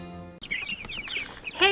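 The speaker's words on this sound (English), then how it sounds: "the broiler chickens are about 3 weeks old now, and they have gotten huge and they have filled this brooder up" Three-week-old broiler chickens crowd a brooder, giving a brief burst of close clucks and chirpy calls after a moment of quiet, ending on a louder squawk.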